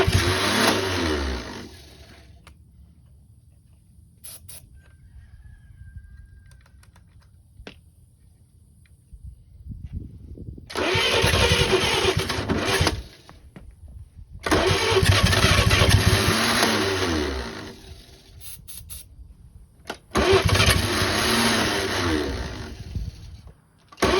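An 80-year-old Chevy 216 six-cylinder engine, long dead, is cranked by a struggling starter in three loud sustained bursts of several seconds each, separated by pauses, with quieter mechanical clatter in between.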